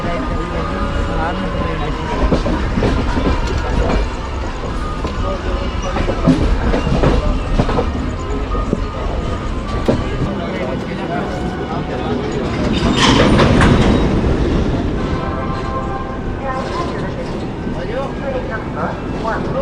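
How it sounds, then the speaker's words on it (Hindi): Passenger train rolling into Saharanpur railway station, platform 4, with steady loud wheel clatter and rumble throughout and a surge of rattling around the middle, under continuous background talk. "ट्रेन हमारी अराइव कर रही है सहारनपुर रेलवे"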